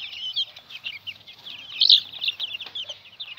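Chickens and their chicks clucking and cheeping at a home, a steady busy chorus of close, overlapping calls with a louder burst midway and no talking.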